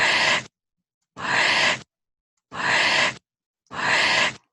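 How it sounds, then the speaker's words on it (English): A breath played in reverse, heard as four separate swelling inhaled whooshes that rise and then cut off sharply, evenly spaced with silent gaps between them and no voice. "it just sounds like a breath going in rather than going out"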